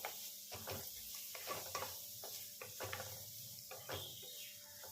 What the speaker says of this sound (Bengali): 2 মিনিট পরে আমি ঢাকনাটা খুলে একবার নেড়ে দিচ্ছি।